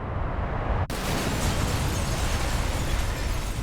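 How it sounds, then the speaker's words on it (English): A massive warehouse-district explosion blasts out in Butte, a sudden boom followed by a sustained roaring, rumbling wash of debris and fire noise, loud and unbroken. "As a third and final blast rocked the area"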